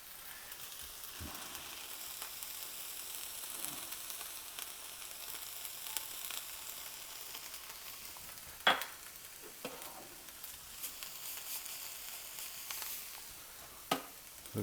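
Vegetables sauté in a pan with a steady broadband sizzle, broken by a few sharp clinks and scrapes of stirring, close and alone with no talk.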